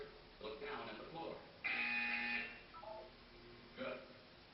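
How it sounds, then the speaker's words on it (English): A flat electronic buzzer sounds once in the Portal 2 video game, a sharp sustained tone lasting under a second, with a robotic voice talking before and after it. "When you hear the buzzer, look up at the ceiling."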